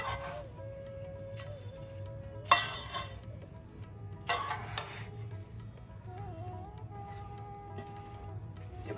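A spoon stirs gond laddu mixture in a pan, giving faint scraping with a couple of sharper metallic clinks over a soft, steady musical background.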